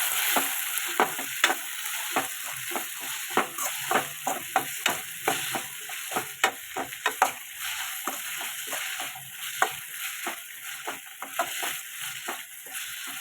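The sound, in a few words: chopped tomatoes frying in a pan for tomato bath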